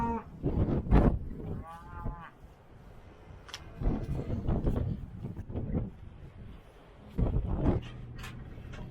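Cattle lowing in a feedlot while a farmer empties the pens for sale, several moos spread through the clip, one fairly near and the rest in the background, with people talking over them outdoors.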